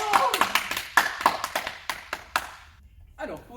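A small group of young children clapping for themselves during a home preschool lesson, a few uneven claps in a loose burst that fades out, with voices and chatter over the top.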